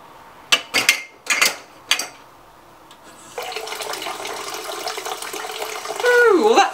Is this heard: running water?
yes